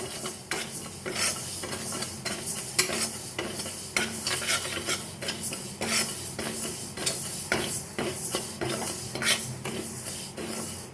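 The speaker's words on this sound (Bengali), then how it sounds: "মুগ ডালটা ভেজে নিচ্ছি আমি হালকা লালচে ভাব আসলেই নামিয়ে নেবো" Steady scraping and stirring of dry moong dal in a metal pan, with a faint sizzle and constant rustling, close up and without talking.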